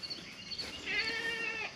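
A goat on a farm gives one loud, wavering bleat lasting about a second, close by and alone with no talk over it.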